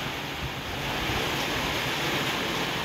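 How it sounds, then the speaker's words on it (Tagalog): Strong, gusty typhoon wind roars steadily across rice paddies in Luna, La Union, a dense, continuous rushing blast with no voices. "Malakas yung hangin niya."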